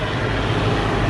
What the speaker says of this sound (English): We've got a tractor going past now.